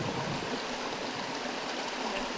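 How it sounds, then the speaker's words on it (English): Ford Brook runs through the valley bottom of Dendals Wood, a steady close rushing and gurgling of water that stays even and continuous throughout. "in the valley bottom is Ford Brook in Dendals Wood"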